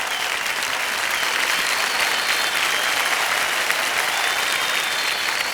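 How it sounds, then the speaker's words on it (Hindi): Loud, dense applause from a studio audience on a Hindi TV quiz show as a contestant wins the hot seat, a continuous even roar of clapping with no break. "जोरदार तालियां बज जाए विमल जी के लिए"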